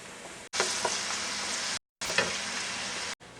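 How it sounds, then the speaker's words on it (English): Chopped onions and celery fry in olive oil, a loud, close hiss of sizzling broken by two brief silences, with a few soft stirring taps and no talking. "And while onions and celery are cooking"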